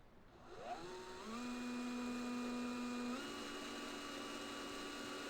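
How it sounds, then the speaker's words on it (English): A power drill boring into the metal body of a Ford Transit van during a camper conversion, its motor whining up in pitch and then holding a steady high drone, close and loud, with no talk. "Okay, first time drilling into the van."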